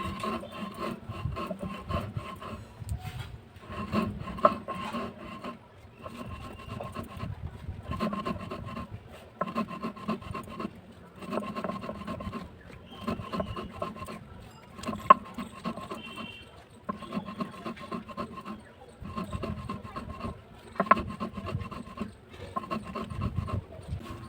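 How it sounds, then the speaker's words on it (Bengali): Biscuits are crushed into powder for a no-cook sweet, heard as steady rhythmic bursts of dry grinding and rubbing, repeated in even cycles with brief pauses between them, close and moderately loud. "বিস্কুটটা আমার গুঁড়ো হয়ে গেছে"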